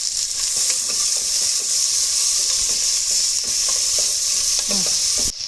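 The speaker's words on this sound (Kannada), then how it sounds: "ಬಟಾಣಿ ಮತ್ತು ಹುರುಳಿಕಾಯಿ ಹಾಕ್ತಾಯಿದ್ದೀನಿ. ಇದನ್ನು ಅಷ್ಟೇ ಸ್ವಲ್ಪ ಚೆನ್ನಾಗಿ ಫ್ರೈ ಆಗಬೇಕು." Peas, green beans, tomato and herbs fry and sizzle in a pan for a pulao, a steady hiss with a few scrapes of stirring, close and loud throughout, no talk.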